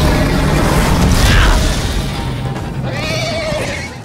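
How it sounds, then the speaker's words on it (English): Horses neigh and whinny in Minecraft: Story Mode, a loud rising whinny followed later by another shrill, wavering neigh over rumbling background noise. "Ooh, horses."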